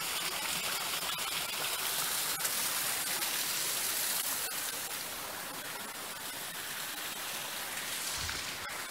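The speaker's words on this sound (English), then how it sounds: "Here is a little waterfall." Small garden waterfall in Monte Palace Gardens, Madeira, giving a steady, soft wash of splashing water that continues unbroken, heard alone without talk.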